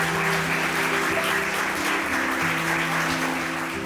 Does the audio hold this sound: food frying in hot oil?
no